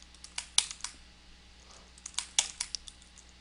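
Keyboard keys clatter in quick irregular bursts during video game play, close and fairly crisp, with a pause in the middle, and no talking.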